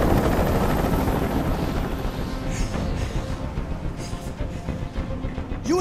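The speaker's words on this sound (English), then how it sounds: "I can't stand that noise anymore. Tell that helicopter to get out of here." In the Detroit Become Human video game, a hovering helicopter drones loud and continuous, its rotor chop steady close by with a dense rumble throughout.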